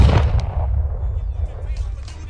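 A single loud, booming gunshot cracks at the start and decays into a long rumbling echo.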